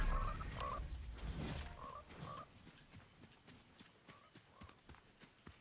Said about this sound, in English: once you kill the frogs